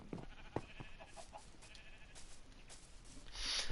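Sheep bleating in the Minecraft video game on PS4, a few short game bleats over a low background hum with some bright clicks, fairly faint and with no speech.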